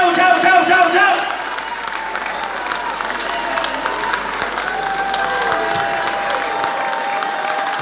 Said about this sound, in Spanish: Vamos, vamos para el aplauso fuerte para ellos.